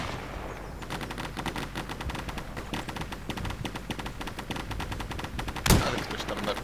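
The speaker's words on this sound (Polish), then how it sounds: "Suppressing fire mocny, widzę, wygląda na to." Sustained suppressing machine gun fire in the tactical shooter Insurgency, a steady rapid stream of shots with one louder blast near the end, no talk.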